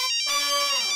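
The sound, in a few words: phone ringtone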